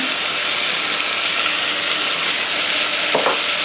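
Whole spices with freshly ground black peppercorns sizzle in a hot pan for butter chicken, giving a dense, even crackling hiss that runs on without a break, up close and alone, with one faint scrape near the end.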